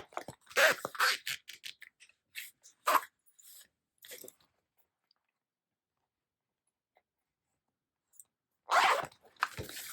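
A zipper is worked onto a sewn fabric pouch in short scratchy bursts at close range, followed by a long quiet stretch and a final cluster of zipping and handling noises.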